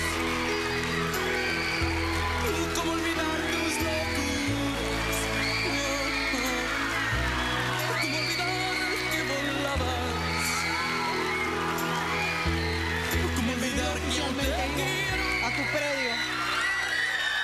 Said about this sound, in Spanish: vamos a recibir con un fuerte aplauso